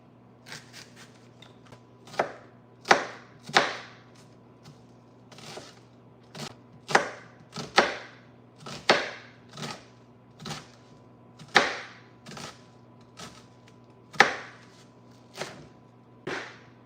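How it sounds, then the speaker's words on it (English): A kitchen knife chops onion on a cutting board during home cooking, giving a series of about a dozen sharp, distinct knocks at an irregular, unhurried pace, close and clear over a faint steady hum with no talking. "I'm gonna cut a little bit more onion."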